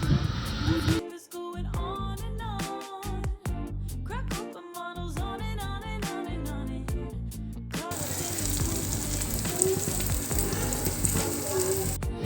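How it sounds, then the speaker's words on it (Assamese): Small pond fish and jackfruit seeds frying in a pan at home, giving a steady crackling sizzle close by, broken early on by stirring and the clatter of utensils, then a denser continuous sizzle. "এতিয়া লাহেকৈ সৰু মাছখিনি দি দিম আৰু অকণমান ধুনীয়াকৈ ফ্ৰাই কৰি ল'ম।"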